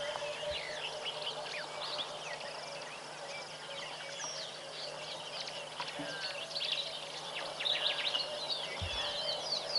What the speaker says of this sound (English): Sounds like a yellow-breasted apalus. A little insectivorous bird.